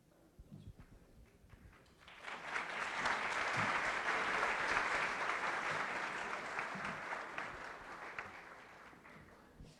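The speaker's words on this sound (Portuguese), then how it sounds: "Uma salva de palmas a todos." Audience applause at an evening university law-week lecture and certificate ceremony in Brazil, rising after two quiet seconds into steady, dense clapping that swells and slowly tapers, with no talking over it.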